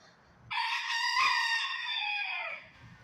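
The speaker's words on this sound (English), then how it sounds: "People better come get your rooster" A loose rooster crows inside a laundromat, one long, loud, close cock-a-doodle-doo lasting about two seconds over quiet room ambience.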